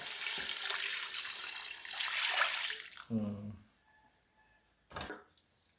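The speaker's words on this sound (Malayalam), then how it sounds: "ഇനി നമുക്ക് തേങ്ങാപ്പാൽ ഒഴിക്കാം കേട്ടോ." Coconut milk pours into a pan of fish curry with softened tomatoes, a running liquid stream at first, then quieter gurgles and a short splash near the end.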